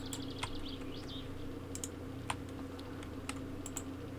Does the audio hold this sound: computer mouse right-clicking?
yes